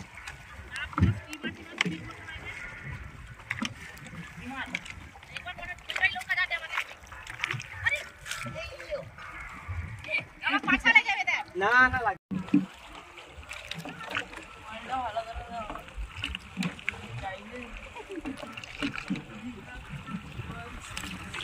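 A fishing boat, likely a rowed wooden boat, cuts through small waves on open water with sloshing and splashing throughout, under frequent nearby talk among several people.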